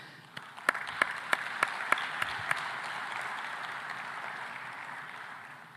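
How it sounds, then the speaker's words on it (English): Audience at a conference session on food systems giving a soft, diffuse round of applause, with a handful of sharp, distinct claps close by near the start before it settles into an even murmur. "A warm round of applause for everyone and the leaders that we currently have that are pushing."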